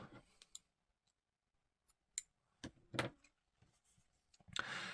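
Scissors snip through yarn during a crochet project, a few short, quiet clicking cuts scattered across an otherwise near-silent stretch.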